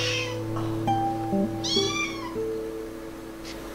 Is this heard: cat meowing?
yes